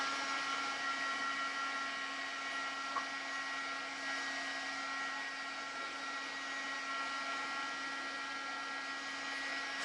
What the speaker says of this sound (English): You just keep drying this.